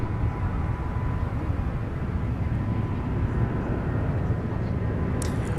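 A Delta Airbus A321neo departs Minneapolis–St. Paul airport with a steady, deep jet engine roar, loud and rumbling throughout without fading, heard from the spotting area.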